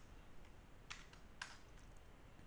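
Faint keystrokes on a computer keyboard while writing code: two distinct taps stand out against a quiet hiss, with a few softer ones around them.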